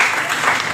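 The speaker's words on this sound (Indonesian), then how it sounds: "Tepuk tangan." Brief burst of audience clapping at a school worship service, loud and dense, cut short after under a second.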